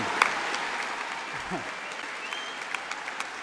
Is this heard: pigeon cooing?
no